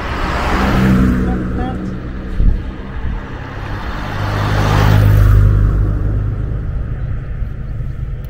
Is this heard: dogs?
no